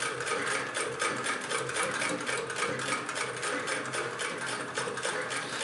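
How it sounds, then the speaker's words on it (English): A 1926 Singer 99 hand-crank sewing machine stitches with standard thread in a steady, continuous mechanical clatter, its rapid rhythmic ticking close and loud, running alone throughout. "you can just tighten the locking nut back down and start sewing"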